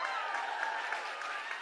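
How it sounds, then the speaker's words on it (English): Audience clapping at a summit talk, a steady, continuous wash of applause with no gaps, fairly distant and muffled. "Don't clap just yet."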